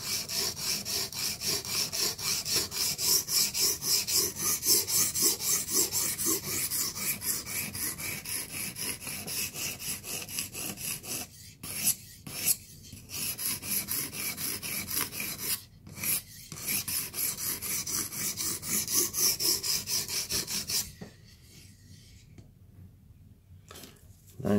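A knife blade rasps against the abrasive of a Blitz 360 sharpener during reprofiling, a dense continuous scraping broken by a few brief pauses and ending in near silence.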